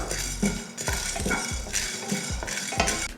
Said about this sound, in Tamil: முதல்ல 1 ஸ்பூன் அளவுக்கு கடலைப்பருப்பு போட்டு வறுத்துக்கலாம்